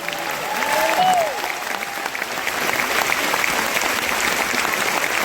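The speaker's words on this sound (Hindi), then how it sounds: "एक बार जबरदस्त तालियां होनी चाहिए।" An audience at a motivational event for the Modicare company claps loudly and steadily for several seconds, with a voice faintly audible underneath.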